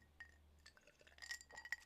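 Glasses of morning water clink together in a toast, a few light bright chinks with faint handling and liquid sounds, quiet and close, with no talk.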